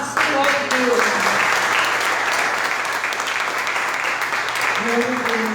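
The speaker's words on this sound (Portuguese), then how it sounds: "As palmas é para o Senhor" Church congregation clapping steadily during a worship service, a dense, sustained round of applause heard up close, with a voice faintly speaking underneath at the start and end.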